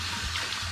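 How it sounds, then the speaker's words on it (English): Water rinsing through a glass demijohn, a brief steady sloshing and trickling wash, close and fairly loud with no voices. "I'm going to give my demijohn a little bit of a rinse"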